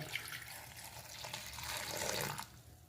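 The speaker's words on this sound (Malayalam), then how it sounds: "ഞാനിവിടെ ഒരു ഗ്ലാസ് വെള്ളമാണ് ചേർത്തത്" A glass of water poured into a cooking pot for Kerala-style ripe banana pachadi, a close, continuous splashing pour lasting a few seconds before it tapers off.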